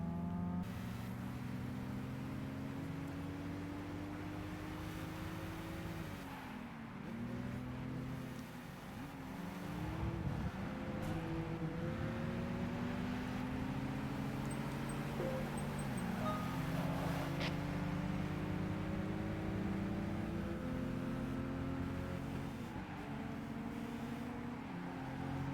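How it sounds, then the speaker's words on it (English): Car drifting in Gran Turismo 5, a continuous engine drone with revving swells and tire noise throughout, steady and moderately distant. "Drifting in the background."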